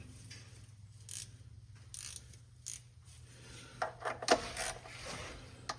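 A ratchet wrench clicks in short bursts while an oil drain plug is threaded back into the oil pan of a 2019-or-newer fifth-generation Ram 1500 with the 5.7L engine, close and fairly quiet over a low background hum.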